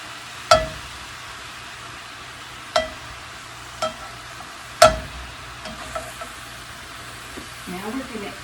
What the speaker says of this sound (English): my greens are cooking down nicely. And I'm just really trying to stir it all together.